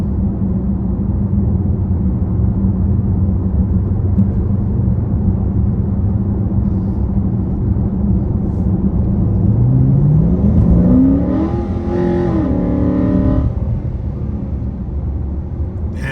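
A Dodge Charger engine drones steadily, then revs up with a rising whine around the middle before settling back to a loud, continuous rumble.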